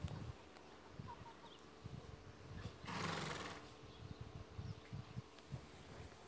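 A single Minecraft horse neigh rises briefly in the middle, over a low background of game ambience with faint clucking and buzzing.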